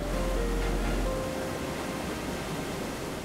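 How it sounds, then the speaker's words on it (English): Rushing water from a waterfall in the Amazon rainforest, a steady broadband roar that holds constant throughout, with no voices. "The sound of rushing water and the mist rising from the falls."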